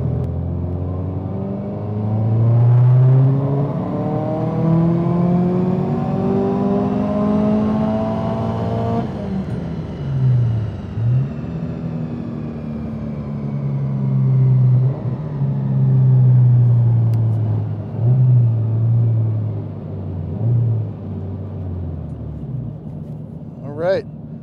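A Subaru STI running E85 fuel with a new turbo, new injectors and a COBB Accessport V3 revs hard through a dyno pull, the engine note climbing and dropping in loud sweeps with a steady rumble, under people talking.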